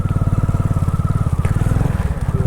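A motorcycle engine running at steady revs during a ride in the rain, a loud close rhythmic throb that pulses evenly throughout, with no talk.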